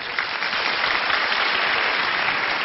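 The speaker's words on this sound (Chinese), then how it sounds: "经常玩游戏的玩家给我鼓掌好吗？" A studio audience at a televised job-show taping applauds continuously, a bright, dense and fairly loud wash of clapping throughout.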